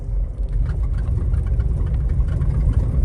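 A Range Rover Classic engine runs at a steady, close low rumble as the vehicle is put into drive, with a constant mechanical drone throughout.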